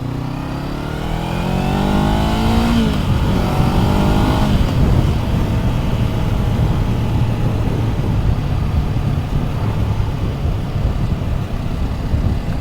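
A 2024 Honda CB500 Hornet 500cc motorcycle on a test ride: the engine revs rise through a couple of gears, then settle into a steady droning cruise, close and loud with wind noise.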